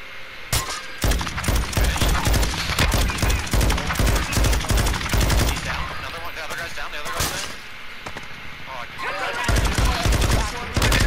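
Rapid bursts of gunfire from Warzone 2.0 crackle almost nonstop, dense volleys with brief gaps, loud and close, mixed with in-game clatter and occasional voices.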